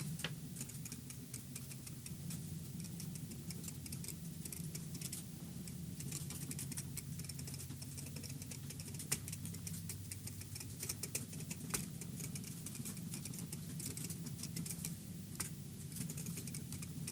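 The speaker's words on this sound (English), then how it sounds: "type something on my computer keyboard" Someone types on a loud computer keyboard, producing rapid, irregular clicks and clacks over a faint low room hum, with no talking.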